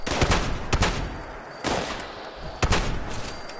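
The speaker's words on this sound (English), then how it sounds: "This is basically just a double barrel shotgun." A double-barrel shotgun in the video game Fallout 76 fires several loud, close blasts, each a sharp burst with a short booming decay, spaced unevenly and overlapping with other in-game noise.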